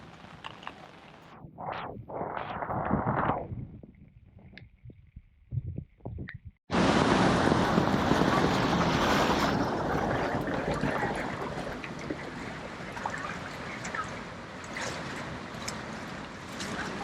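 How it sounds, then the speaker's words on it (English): Water surging and washing through a flooded street in Intramuros, Manila, first as scattered splashes and gusts, then an abrupt loud, sustained rushing roar that fills the rest. "There's literally a wave in the street. There are waves in the street."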